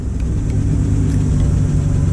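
A BMW project car fitted with a race seat idles and rumbles on a short test drive, a steady low engine drone heard close up with no talk.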